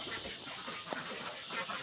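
Ducks waiting to be fed, a cluster of soft, low quacks and murmurs close by, muffled under a steady background hiss, with no talking.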